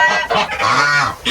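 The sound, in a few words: goose honking in barn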